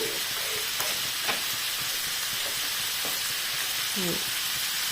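Sausage sizzles steadily in olive oil in a pan as fresh tomato goes in, a constant bright hiss with a few scrapes and stirring clinks, and a voice speaking briefly in the background.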